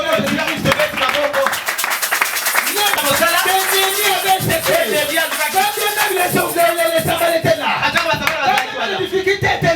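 A church congregation acclaims the Lord with loud, sustained cheering and rapid clapping that fill the room, a dense and constant wall of voices and hand claps.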